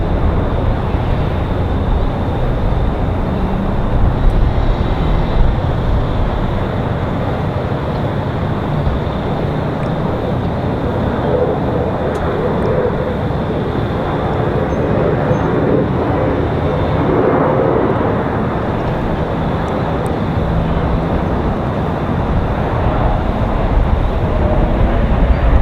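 Delta Connection Embraer E175 regional jet landing, a steady broadband roar of engines and rushing air that holds at constant loudness throughout, close and loud with no talk over it.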